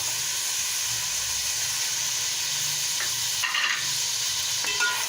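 Green chillies and tomatoes fry for a mix sabzi in a hot pan, giving a loud, continuous close-up sizzle and hiss with faint stirring scrapes near the end.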